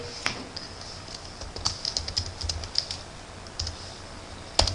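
Typing on a computer keyboard, a quick irregular run of close, crisp key clicks over a few seconds, ending with a sharper keystroke.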